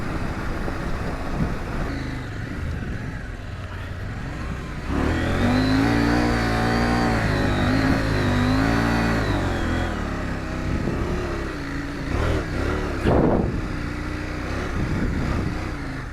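The engine of a KTM 790 Adventure R adventure motorcycle drones steadily while riding through sand dunes, then surges into a louder, rising rev that holds for several seconds before dropping back to a rough, varying throttle.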